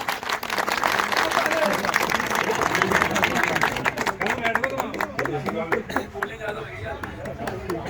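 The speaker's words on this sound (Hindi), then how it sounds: "इनके लिए जोरदार तालियां" Clapping from a crowd at a village Holi celebration, loud at first and then thinning into scattered claps, with voices murmuring among the gathering.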